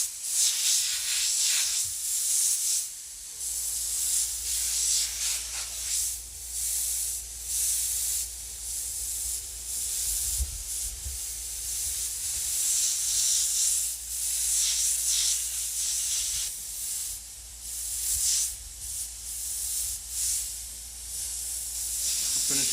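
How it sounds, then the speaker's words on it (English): A steady airbrush hiss of paint spraying continuously, close and even, with slight fluctuations in intensity and a low hum underneath. "in the middle you can widen up the spray and you can fill in a little faster"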